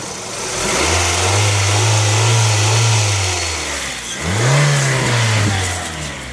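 A Honda CR-V engine revs twice in quick succession, each rise climbing then holding before falling back toward idle, loud and close with no talking.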